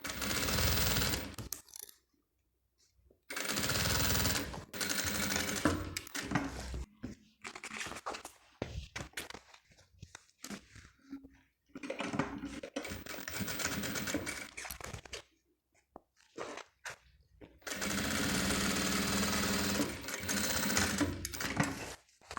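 Sewing machine stitching a bag lining in rapid bursts of motor-driven needle clatter, separated by short quiet pauses, close and clear with no talk.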